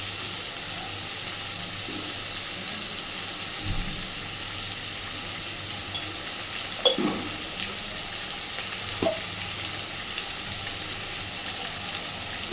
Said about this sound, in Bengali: আলু টমেটো সবই একসাথে ভাজতে ভাজতে